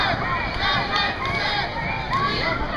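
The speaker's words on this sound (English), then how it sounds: "Just like a little cheer, probably." Outdoor crowd at an Occupy SF march in San Francisco cheering and shouting, a broad wash of overlapping voices with scattered higher yells, moderately close and continuous.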